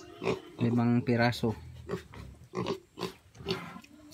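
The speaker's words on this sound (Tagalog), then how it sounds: "Bumili kami ng baboy 5." Pigs on a small farm let out several loud grunting oinks, mostly in a burst near the start, with people talking over and between the calls.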